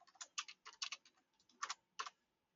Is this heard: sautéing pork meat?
no